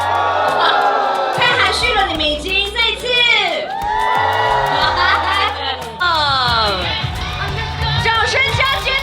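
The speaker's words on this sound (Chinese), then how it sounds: "掌声加尖叫" A crowd at the Moana 2 premiere cheers and screams loudly, with high shrieks and whoops rising and falling over clapping, while voices talk and shout through the din.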